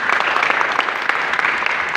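A church congregation at a Pentecostal service claps together, dense steady applause lasting a couple of seconds, close and loud.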